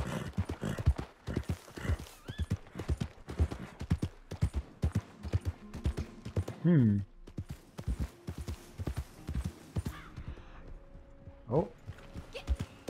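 Horse hooves clop in a steady, close rhythm in the Red Dead Redemption 2 video game, joined by a couple of whinnies, with a brief murmur from a player.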